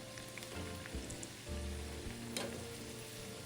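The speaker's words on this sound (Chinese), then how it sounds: "復炸至金黃色，表面酥脆，即可撈起。" Taro and jicama fritters with shrimp and minced pork being refried in hot oil: a soft, steady bubbling sizzle, quiet and continuous, heard alone.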